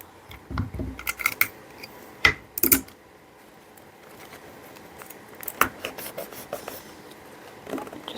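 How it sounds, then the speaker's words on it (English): Slightly white-tinted clear adhesive tape is pulled and pressed onto gift wrap around a Valentine's or anniversary present, giving scattered close paper crinkles, taps and a couple of sharp rips midway, with no talking. "I'm going to tape it down."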